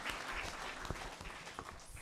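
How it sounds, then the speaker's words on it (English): An audience applauds a presenting team at an international geolympiad, soft, steady clapping from many hands sounding somewhat distant and quiet. "Please give applause for Yasa team, everyone."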